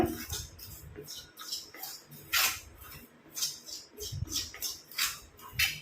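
A spoon stirring kattha powder hair dye paste in a bowl, giving close, repeated scraping and soft clicking strokes in a steady back-and-forth rhythm, with a voice talking at times.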